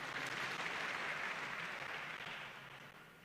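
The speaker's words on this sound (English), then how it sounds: "Give him a big clap." An audience at a cathedral event in Kiambu claps for the vicar, a dense burst of applause that is fairly loud at first and then fades out.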